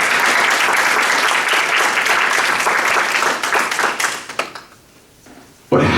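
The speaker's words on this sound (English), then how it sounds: "Give them a round of applause." Audience at a talk on success and leadership applauding, a loud, dense burst of clapping from a large crowd that thins out and fades over several seconds.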